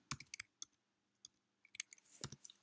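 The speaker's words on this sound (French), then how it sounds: "je vais utiliser la touche tabulation sur la gauche de mon clavier pour faire des espaces" Typing on a computer keyboard, including presses of the tab key: scattered quiet, close clicks in short irregular clusters with pauses between them, no voices.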